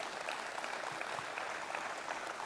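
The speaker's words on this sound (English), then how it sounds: "you can give that a round of applause." Audience applause after a governor's remarks at an airport announcement, a dense, steady clapping from a crowd that holds evenly for a couple of seconds.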